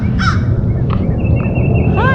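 A crow in a spring garden caws loudly and close by, giving a few harsh calls spaced across the moment over rough outdoor background noise.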